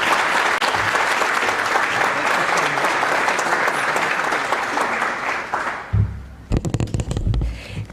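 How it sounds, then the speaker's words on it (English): Warm audience applause welcoming Congresswoman Stephanie Murphy to a policy event, a full sustained ovation that thins after about six seconds into scattered last claps and a few handling bumps. "Would you please, with your warm applause, welcome this remarkable leader, Congresswoman Stephanie Murphy"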